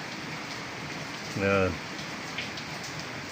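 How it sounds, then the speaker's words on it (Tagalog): Steady rain falls outdoors over pigeons perched on a pole, a constant hiss throughout, with a brief spoken word briefly cutting in near the middle. "Kaya naliligo sila sa ulan."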